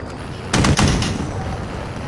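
Pistol fire in a video game: two loud, close shots in quick succession, about a quarter second apart, over a constant noisy background.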